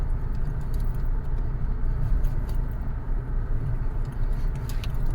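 A car drives along a dirt road in the Philippines, with a steady low rumble from inside the cabin, rattling and jangling over the bumps and no talk.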